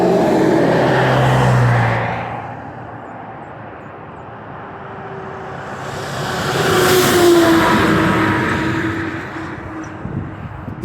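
Car driving past on a street, rising from a loud approaching rumble to a fading roar, then a second vehicle swells and recedes, with steady road noise between passes and no talking.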